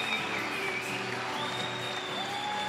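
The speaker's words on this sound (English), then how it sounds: "give him a round of applause" A crowd applauds steadily after a Muay Thai bout, dense clapping holding at an even level across the moment with faint tonal sounds in the background.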